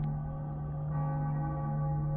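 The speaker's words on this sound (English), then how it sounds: "It gave off this eerie, atonal clang." Cracked bells in a video game ring a sustained, eerie, atonal clang, one loud droning tone with a slight renewed strike partway through, heard alone.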